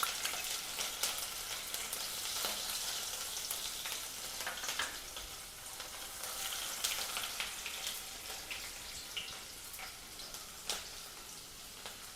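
Dried red chilies and garlic fry in hot oil in a pan for a potato-and-brinjal dry curry, giving a steady, close crackling sizzle with occasional sharper pops and light stirring scrapes.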